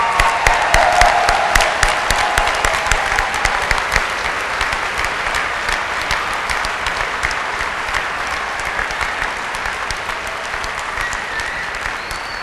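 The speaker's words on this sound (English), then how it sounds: "Let's give them a round of applause one more time." Audience applause at the Saint Francis University undergraduate commencement for the class of 2013: dense, sustained clapping from a large crowd that starts strong and eases slightly over about twelve seconds, with no voices over it.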